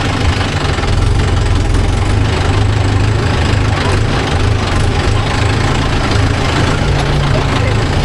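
A Mahindra Yuvo Tech Plus 585 4WD tractor engine labours up a rise of loose dumped soil, a loud, close, steady low drone that holds without a break.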